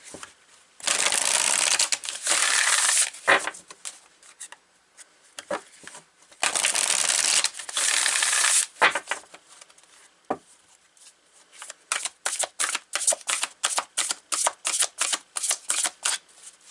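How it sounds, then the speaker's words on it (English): Tarot-style playing cards being shuffled for a reading, in loud riffling bursts separated by pauses, ending in a rapid run of short snapping flicks as cards are pulled, with no talk. "But we're going to pull some more cards."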